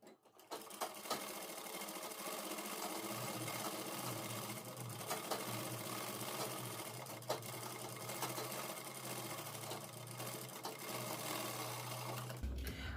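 A sewing machine stitches a collar onto a kurti, whirring in a fast, steady run that holds for several seconds before stopping near the end, close and alone.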